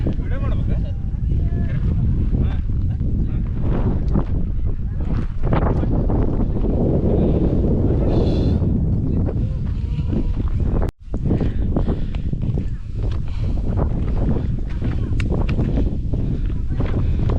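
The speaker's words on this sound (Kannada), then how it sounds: "ಗಾಳಿನೂ ಹಂಗೆ ಬೀಸ್ತಾ ಇದೆ." Strong wind gusts buffet the microphone on the Kumara Parvatha mountain trek, a loud, rough roar that swells and fades, with people talking over it.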